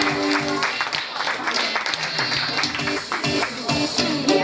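Audience clapping at a fashion pair presentation event in Sibiu, a dense, steady burst of applause throughout, loud and close, with faint voices mixed in.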